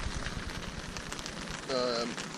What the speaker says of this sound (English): You'll probably hear that the rain's come as well